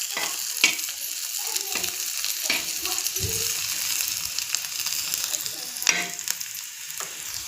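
Peanuts fry in a little oil as a spoon stirs them, producing a steady, close sizzle punctuated by repeated scraping and clacking strokes against the pan.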